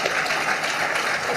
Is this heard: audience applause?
yes